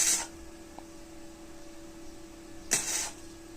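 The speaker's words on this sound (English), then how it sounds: "I am spot welding it, not a continuous welding." Two short, harsh crackling bursts from flux core spot welds on a car body panel, one at the start and one near the end, with a steady electrical hum in between.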